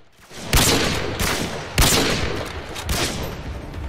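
Video game gunfire in a one-on-one match: sharp loud shots at about 0.5, 1.8 and 2.9 seconds, each with a lingering rumble, over steady noisy game ambience.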